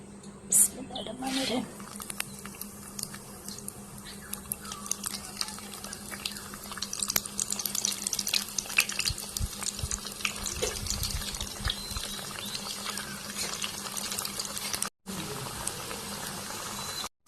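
Snacks frying in hot oil in a pan, a steady bubbling sizzle that runs throughout with a faint hum, close and moderately quiet, while a voice talks over it.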